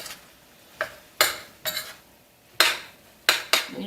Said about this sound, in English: you just want to kind of stir from the bottom, just to kind of mix in some of that tomato